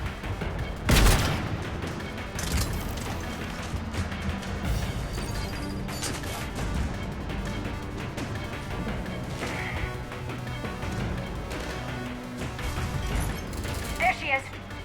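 Gunfire in the video game Mass Effect 3 during a chase, with a loud sharp blast near the start followed by dense, continuous crashing and shooting layered over music and effects, with people talking throughout.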